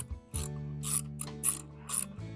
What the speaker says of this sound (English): I'm going to start by taking off this bolt right here, and this bolt right here,